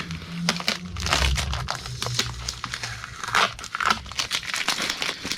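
Masking tape peeled off a Powell Peralta Steve Caballero skateboard deck, a close, continuous run of crinkling and tearing rips with a few sharper crackles over about five seconds, no talk.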